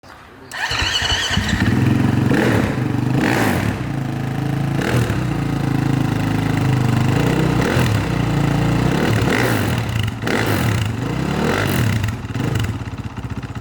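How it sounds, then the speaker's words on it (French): A restored 1954 Sunbeam S7 motorcycle engine starts and runs loud and close, with a steady idle broken by several sharp throttle blips and revs, while someone talks over it. "La Sunbeam, donc c'est un modèle S7 de 1954."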